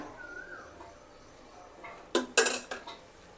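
A cooking pot is set down and clinks against metal while oil is added for Andhra style kara chutney in a home kitchen, a few sharp, close clatters after quiet.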